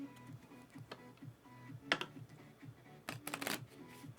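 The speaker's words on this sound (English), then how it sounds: "So let me shuffle these." Mage Knight Ultimate Edition cards being shuffled by hand at a table: quiet, close riffling and tapping in quick irregular bursts, with a louder flurry near the end.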